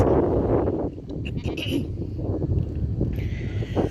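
Goats used for mob stocking on a badly overgrazed property bleat repeatedly in short overlapping calls, close and fairly loud, over steady outdoor background noise.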